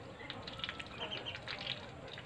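Muscovy ducks of silver, dragon and millennial color varieties, faint scattered quacks and honks against a low outdoor background, some overlapping.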